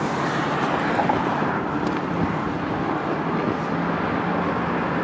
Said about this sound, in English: what you see here is the street sweeper dropping off his stuff